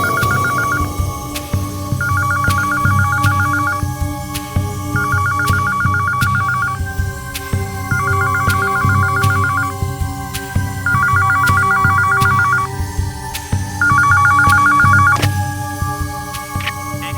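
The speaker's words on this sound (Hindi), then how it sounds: "आधी रात के बाद एक फोन आया था साहब" A telephone rings repeatedly after midnight in a TV crime drama scene, in regular electronic bursts with pauses between, loud and close over a low steady hum.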